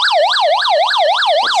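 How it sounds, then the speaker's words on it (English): Loud wailing emergency siren from a FosPower solar hand-crank weather radio's SOS button, a fast electronic tone sweeping up and down about every quarter second, continuous and close. "sounds the siren and it flashes."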